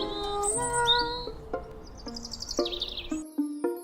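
Birds in an animated story chirp and tweet in quick, bright bursts, close and clear over soft background music.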